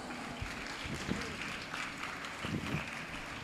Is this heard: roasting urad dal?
no